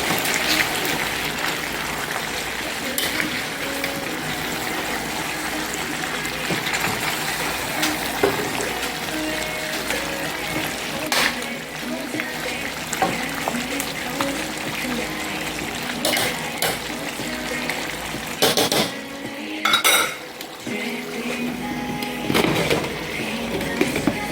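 Jamaican brown stew pork being stirred in a pot, with a steady sizzling, bubbling wash of liquid throughout and brief louder scraping stirs near the end.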